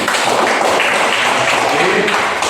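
A school class applauds in a lesson, a short burst of loud, dense clapping from many hands, close and continuous throughout, with voices mixed in.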